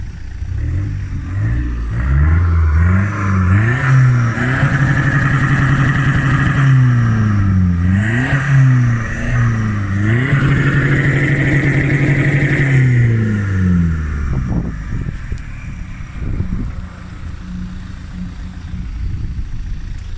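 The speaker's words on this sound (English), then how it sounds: "give us a few cheeky revs." A car engine revs repeatedly through a loud, raspy screamer pipe exhaust, climbing and dropping in pitch in several long pulls before settling to a rough idle.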